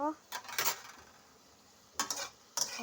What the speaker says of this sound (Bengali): এখন ঢাকনা উঠিয়ে একটু নেড়ে দেব